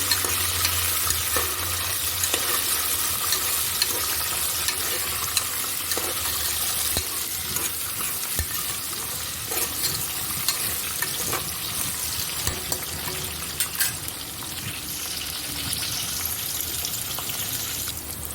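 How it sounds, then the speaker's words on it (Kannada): Long-sliced onion fries in oil in a pan for aloo bath, with a loud, continuous sizzle and occasional stirring scrapes, close by and with no talking. "ನೋಡಿ ಈರುಳ್ಳಿ ಸ್ವಲ್ಪ ಎಣ್ಣೆಲಿ ಫ್ರೈ ಆದಮೇಲೆ"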